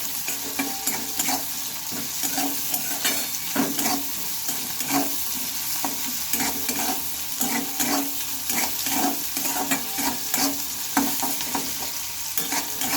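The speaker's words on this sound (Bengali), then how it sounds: "লবণটা দিয়ে নিয়েছি এবার একটু ভালোভাবে নেড়ে চেড়ে নেবো" Leftover cooked rice frying with salt in a pan, stirred steadily so the spatula scrapes and rustles continuously over a constant sizzle; close and moderately loud, with no voices.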